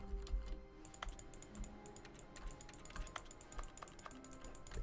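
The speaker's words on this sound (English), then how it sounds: "Advances the lovely sound of clicking" Rapid, light clicking from The Stanley Parable: Ultra Deluxe, crisp taps arriving in quick irregular runs at moderate distance over a quiet background, with no voices.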